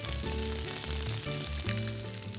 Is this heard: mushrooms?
yes